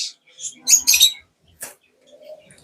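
Lovebirds at a bird shop give a few short, sharp chirps close by, separated by brief silences, with a soft lower call near the end.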